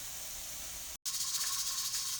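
A pressure canner on the stove vents steam while chicken broth is being canned, giving a steady loud hiss that cuts out for a moment and then returns even stronger.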